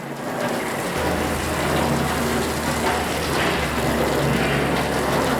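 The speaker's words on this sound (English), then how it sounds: "water's falling down really quick" Water pours steadily onto a water-repellent surface, a dense, rain-like patter that begins after a brief quiet moment and continues evenly.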